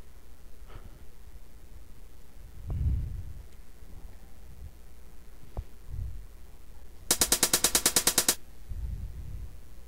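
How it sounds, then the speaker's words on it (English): A closed hi-hat pattern for a trance track plays as a quick, evenly spaced run of crisp ticks for about a second, following a few scattered soft low thumps and clicks. "And then finally the closed hi-hat."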